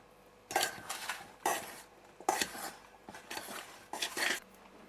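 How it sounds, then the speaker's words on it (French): Tuna filling with chopped onion stirred in a bowl, a spoon knocking and scraping in about five distinct bursts of clatter, close and moderately loud, with quiet pauses between. "et on mélange"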